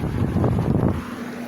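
Strong wind buffeting a microphone up close, a low rumbling roar that gusts and then eases off.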